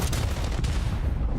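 A sticky grenade going off in a Call of Duty League match, heard as a dense, sustained low rumbling boom with a couple of sharper cracks near the start, loud and continuous for a second and a half with no voices.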